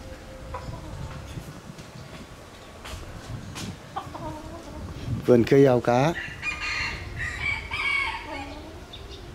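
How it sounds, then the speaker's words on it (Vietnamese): Bantam jungle fowl roosters in a rural yard in Nà Sản, Sơn La, cluck intermittently, then one crows loudly up close, followed by more calls, while someone speaks briefly. "Đây mới gọi là gà tre rừng này."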